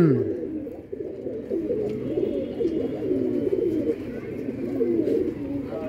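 A fancy-breed pigeon coos in repeated low, throaty rolling phrases, close and continuous, with a faint murmur of people in the background.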